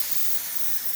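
DeVilbiss spray gun at about 45 pressure spraying paint onto a Volvo hood, a loud, steady, close airy hiss that stays even throughout with no pauses and no voices.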